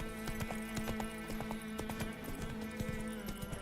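Roach the horse gallops in The Witcher 3: Wild Hunt, with quick rhythmic hoof clip-clops over a low, steady game soundtrack, fairly quiet and with no talking.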